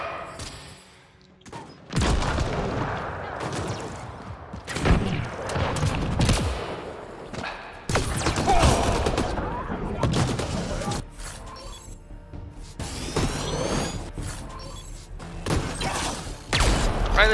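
Gunfire in the video game Mass Effect: Andromeda, repeated rapid bursts of automatic shots and thuds coming in long clusters with short pauses between, loud and close.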